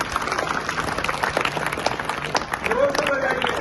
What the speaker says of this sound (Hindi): अब जोरदार ताली अपने लिए बजाइए